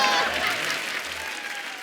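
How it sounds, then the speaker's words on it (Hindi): A television comedy studio audience applauds for Nora Fatehi in a brief, loud burst of clapping that starts strong and gradually fades. "नोरा के लिए जोरदार तालियां ले जाइए।"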